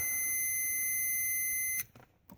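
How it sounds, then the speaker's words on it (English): A continuity tester's steady high-pitched electronic beep holds for nearly two seconds while checking a trailer turn signal circuit, then cuts off, leaving brief faint clicks and handling noise. "You just touch these, one to each side, and you hear the beep."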